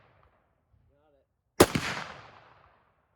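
A Springfield Armory M1A rifle fires a single sharp, loud shot outdoors at a pumpkin target, its crack trailing off in a rolling echo, with faint quiet sounds before it.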